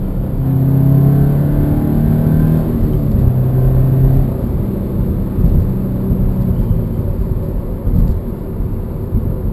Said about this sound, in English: The revs drop nice and quick, nice and fast.